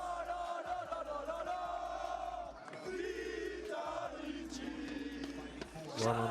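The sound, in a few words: crowd of Vitality fans chanting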